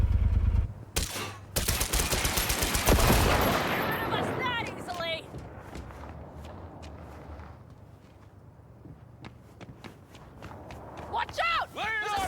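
Sniper and other gunfire in the video game Cyberpunk 2077, a loud burst of rapid shots early on followed by scattered shots and footsteps, with voices talking over the game sounds.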